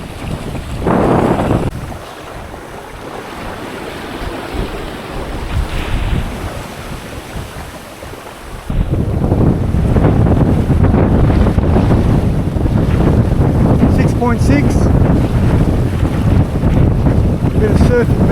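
The sailboat Spellbound surfs down waves in a strong wind on Norfolk Bay, Tasmania. Wind buffets the microphone, then a loud, sustained rush of water builds and carries through the second half of the clip, with no voices.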